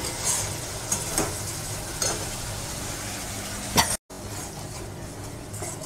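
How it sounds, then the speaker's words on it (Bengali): Spice paste being sautéed in a pan for rohu fish curry made without onion or garlic. A steady low sizzle runs throughout, with a few soft scraping stir strokes. "মশলাটা আমি আরেকটু কষিয়ে নেব"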